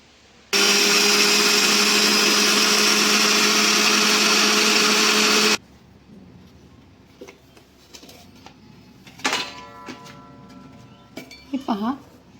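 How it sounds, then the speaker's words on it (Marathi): A mixer grinder with its jar half full grinds chakli flour for sun-dried chakli, a loud, steady whirring roar that runs about five seconds and then cuts off, followed by quieter clinks and handling sounds. "मिक्सरचं अर्ध भांडं भरून घ्यायचे आणि हे दळून घ्यायचे."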